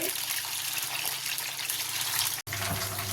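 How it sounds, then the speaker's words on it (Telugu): Green chillies frying in hot oil for mirchi ka salan, a dense, constant hissing splatter close up, steady throughout with a brief dropout near the end. "కొంచెం ఎడంగా ఉండి ఫ్రై చేసుకోండి. కొంచెం నీళ్ళు చింది పడతాయి."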